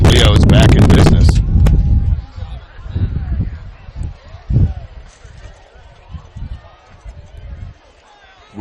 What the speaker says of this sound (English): Windy up here in Belmont.